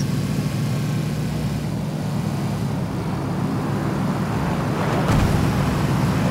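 A steady engine drone of a video game propeller plane flying behind, fairly close and continuous, with a low rumble underneath; no one speaks.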